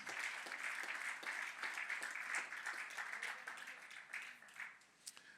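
A church congregation claps for the Lord, a dense wash of many hands at moderate, steady intensity that thins slightly toward the end, with no talking over it.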